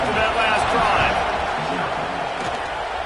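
Penn State football stadium crowd roaring before kickoff, a dense, steady wall of cheering that holds at full volume throughout, with commentary voices mixed underneath.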